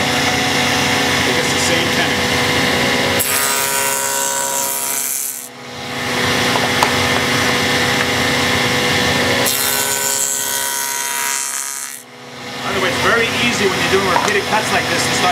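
A hand saw cuts a wooden tenon in long, steady runs of rasping strokes, loud and close, with two short pauses between cutting passes.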